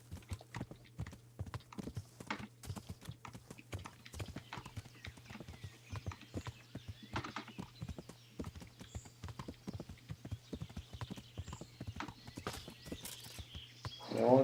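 Steady clip-clop of horse hooves on a road in the medieval game Kingdom Come: Deliverance, with a low constant hum underneath; a brief whinny-like sound comes at the very end.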